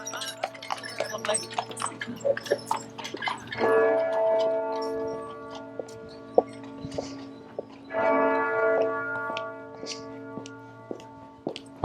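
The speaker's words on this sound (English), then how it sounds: "That's midday bells just going off" Lincoln Cathedral bells ring out at midday in bursts of overlapping, resonant tones, swelling twice and decaying, over sharp clicks and faint street ambience.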